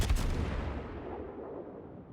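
Naval artillery from World of Warships, involving the Myoko heavy cruiser: a single heavy boom that opens abruptly and then rolls away in a long, fading rumble over about two seconds.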